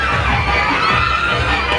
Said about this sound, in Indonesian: itu adalah teriakan para pengunjung histeris tapi bahagia